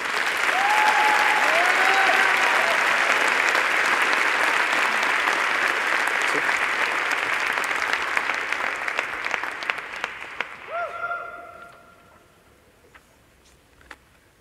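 A large crowd at an engineering graduation ceremony claps loudly and steadily for about ten seconds before the applause thins out and fades, leaving a few scattered claps and faint voices.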